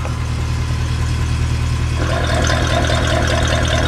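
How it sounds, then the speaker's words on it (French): A Mercedes C63 AMG idles with its exhaust valves open, a steady, loud, deep rumble close by that turns fuller and rougher about halfway through, with no voices. "Donc là je vais les ouvrir, écoutez déjà la différence."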